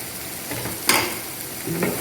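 Fried bitter gourd curry with jaggery and coriander stirred in a pan: a soft continuous sizzle with two distinct spoon scrapes against the pan, close and without talk.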